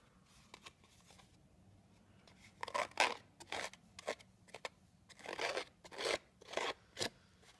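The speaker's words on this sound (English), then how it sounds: "Now I'm going to edge distress this. It's watercolor paper, so it will be a little bit tougher, and I'm only doing it on the sides." A distressing tool scrapes along the side edges of tough watercolor paper in a run of short, rasping strokes, close and fairly quiet, with small ticks between passes.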